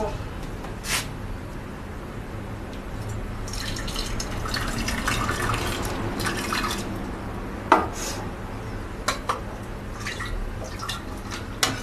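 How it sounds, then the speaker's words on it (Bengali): Hot water pours and trickles into a pan of moong dal cooked with a fish head, a soft running splash with a few clinks of utensils, close by. "দিয়ে দিচ্ছি কিছুটা গরম জল"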